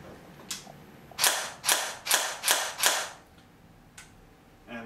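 Cyma CM125 USP electric airsoft pistol firing on semi-auto: five sharp, evenly spaced mechanical shots in a quick run, close and fairly loud, with a few fainter clicks before and after and no talking.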